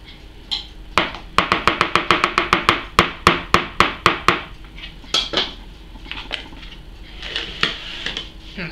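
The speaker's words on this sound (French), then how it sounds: "Ensuite, vous mélangez à nouveau." Batter of flour and sugar being mixed in a bowl, a rapid run of sharp clinking strikes from a utensil against the bowl, then scattered softer scrapes and taps, close and fairly loud.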